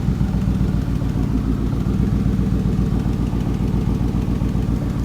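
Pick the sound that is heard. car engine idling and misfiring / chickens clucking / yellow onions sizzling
car engine idling and misfiring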